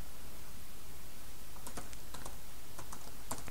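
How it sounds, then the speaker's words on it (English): Keystrokes on a computer keyboard while entering footer text for a WordPress site, a few quick bursts of clicks starting after a quiet moment, close and fairly soft. "So I'm just going to type in"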